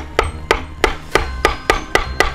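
Hammer tapping Halloween yard signs into the front yard, eight sharp, evenly spaced knocks about a third of a second apart, close and loud over faint background noise.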